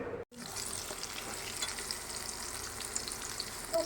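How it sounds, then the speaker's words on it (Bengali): Potatoes frying in a pan until browned, a steady close hiss of sizzling oil with light crackles and a brief dropout near the start, no one talking. "আমি প্রথমে আলুগুলোকে লাল করে নিয়ে নিচ্ছি।"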